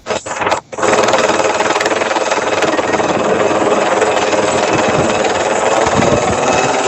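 Loud, steady helicopter rotor and engine roar filling the whole clip, close by as it comes in to land at a farm-murder protest in Naboomspruit, South Africa, after a brief dip at the start.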